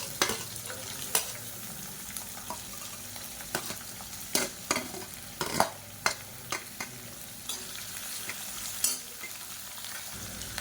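Long-sliced onion frying in hot oil with mustard seeds and curry leaves for Tamil biryani, a steady soft sizzle broken by frequent sharp stirring clicks and scrapes from a utensil in the pan.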